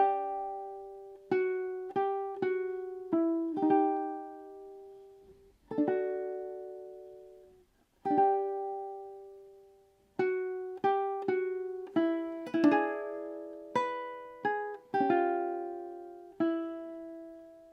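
Solo ukulele plays the first four bars of a song, with clusters of quick plucked notes and strums separated by short pauses, each phrase ringing and decaying, close and unaccompanied.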